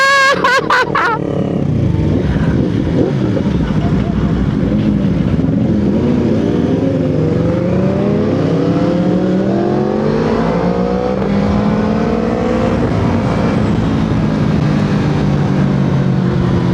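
A Yamaha R1M sport motorcycle's engine runs loud and steady throughout, with a sharp rev burst at the start and rising, wavering engine tones after, close by with no talk over it.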